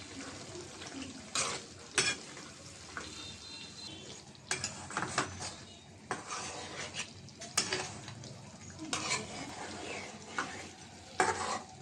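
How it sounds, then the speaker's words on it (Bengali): Katla fish is sautéed in a spice paste in a pan, with a steady sizzle and repeated scraping stirs of a spatula in uneven strokes. The sound is moderately quiet and close. "ভালো করে মাছটা কষাই নিব।"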